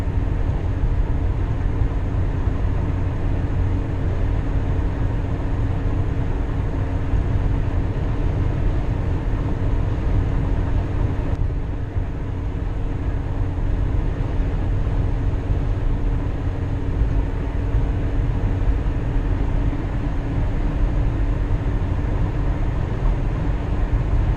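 A 2004 Ford Ranger pickup cruises on an interstate at about 70 mph and roughly 2,500 RPM, giving a loud, steady drone of engine and road noise throughout with no talking.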